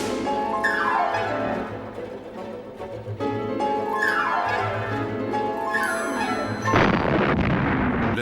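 Artillery fire from the Battle of Stalingrad booms in repeated descending whistles and blasts, several heavy shots following one another before a loud burst of explosive noise near the end.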